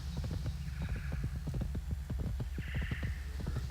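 Horse hooves gallop in World of Warcraft: a quick, steady clip-clop of a mount's footfalls runs continuously at moderate volume with no talking.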